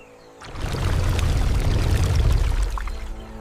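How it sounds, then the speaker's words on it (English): Water in a murky river rushes and splashes in a loud, continuous burst lasting a few seconds, then tapers off, with no talk. "No sound except the rustling water and the deep, guttural breath of death."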